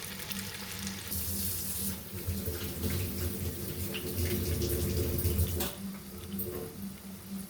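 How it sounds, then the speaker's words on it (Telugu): Chicken pakodi fries in hot oil over a medium flame, a continuous close sizzle and bubbling hiss that swells in the middle, then eases off, with no talking. "అలా వేగుతుందండి, అలా వేగాలి కాసేపు."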